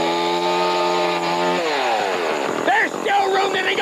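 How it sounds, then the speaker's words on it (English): A chainsaw runs loudly and steadily, its engine note wavering and shifting partway through, and voices join in near the end. "Oh no, not Chainsaw Chuck again."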